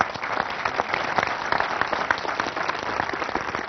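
A large audience at a seminar applauds, producing dense, continuous clapping that fills the room at a steady level without a break and with no voices over it.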